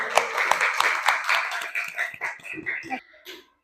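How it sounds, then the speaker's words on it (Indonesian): Students in a classroom clap together at the end of a coding and artificial intelligence lesson, a short burst of scattered, uneven claps that thins out and stops after about three seconds. "tepuk tangan dulu untuk kegiatan kita hari ini"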